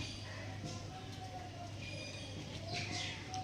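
Soft, low pigeon coos repeat faintly over a quiet background hum, with occasional light chirps.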